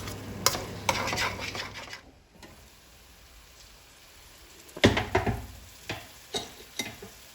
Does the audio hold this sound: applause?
no